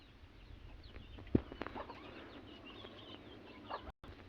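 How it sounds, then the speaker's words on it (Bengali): Household chickens, including a crested hen, cluck softly around a home yard with a brief flutter of wings, faint and close-by. "এবং এখানে অনেকগুলো মুরগি আছে"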